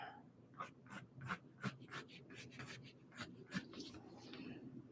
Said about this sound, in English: I'm just making a little sketch real quick.